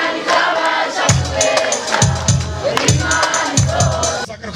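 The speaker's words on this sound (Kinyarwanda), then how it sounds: "hereza Imana amashyi menshi cyane y'amashyi" A church congregation at a gospel worship service claps together in a dense, steady wash of applause, with deep thumping beats recurring throughout and crowd voices mixed in.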